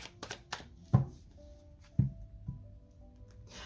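A deck of tarot cards is cut and handled by hand at close range, giving a few soft papery slaps and riffles with brief pauses between them and no voice over the sounds.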